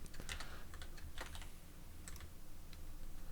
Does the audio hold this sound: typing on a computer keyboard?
yes